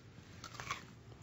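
Bite into crunchy homemade English toffee, a few sharp cracking crunches close to the mic over a quiet room, followed by faint chewing.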